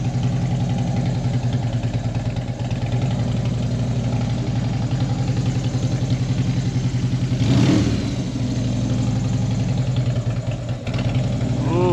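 A Harley-Davidson Flathead 45 motorcycle idles in cold weather, its steady loping engine pulse loud and close, with a brief swell of revving partway through.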